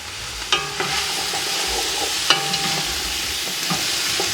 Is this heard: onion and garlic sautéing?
yes